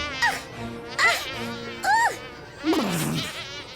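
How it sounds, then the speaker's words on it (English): Cartoon insects buzz around windmills in short whining bursts, four in a row with brief gaps, the last one lower and longer, sitting near and clear with no talk. "has anyone noticed how buggy it is out here?"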